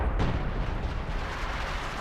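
Howitzer artillery fire in the video game Company of Heroes 2: a heavy, booming blast at the start that rolls off into a long, rumbling decay, with no talking over it.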